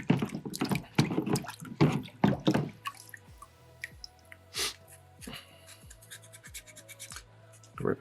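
A soapstone skull carving is rinsed with water: a few seconds of loud splashing and scrubbing up close, then sparse, quiet drips and small wet taps that continue to the end.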